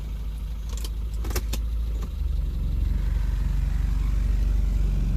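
An idling car engine is shifted into drive: a few light clicks and rattles of the shifter come first, then the steady close engine hum deepens and grows slightly louder as it settles under load, with no talking.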